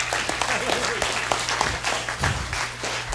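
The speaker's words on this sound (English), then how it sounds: "Give this big flirt a hand clap in the Lord." Church congregation claps together in a lively, rhythmic burst, many hands sounding close and loud, with voices mixed in beneath a low steady hum.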